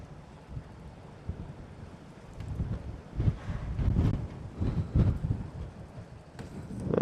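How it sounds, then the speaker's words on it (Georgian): Strong wind gusts outdoors buffet the microphone with low rumbling blasts that swell and fade irregularly, loudest in the middle. "ესეთი ქარია და საკმაოდ გვარწევს ხალხს"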